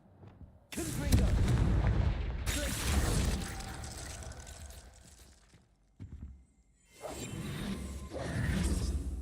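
Confringo blasting spell cast in the Hogwarts Legacy video game: loud booming blasts with whooshing bursts and crackling debris, several explosions in sequence with brief lulls between them.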